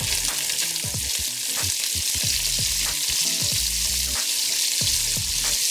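Onions for a hearty vegetable beef stew frying over medium-high heat in a pan, a steady bright sizzle with repeated scraping and stirring knocks from a utensil.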